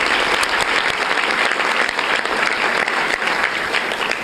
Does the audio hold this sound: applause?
yes